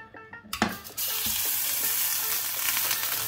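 A homemade ground-beef steak hits a hot oiled pan: a few clunks and a sharp contact hiss, then a loud, even sizzle that holds steady to the end.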